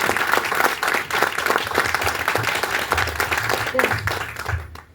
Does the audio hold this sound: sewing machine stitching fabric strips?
no